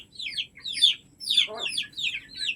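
Several hens cluck in quick, overlapping bursts, close and fairly loud, with a steady murmur of the flock underneath.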